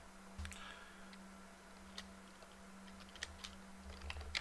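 Keystrokes on a computer keyboard, faint and sparse, a few scattered clicks over steady low electrical hum with no talking.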